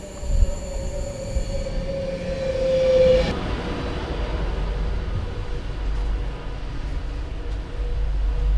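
A British passenger train runs along the rails, a low rolling rumble with a long steel-wheel squeal that fades out at about three seconds, followed by steady track noise and carriage rattle close by, with no voices.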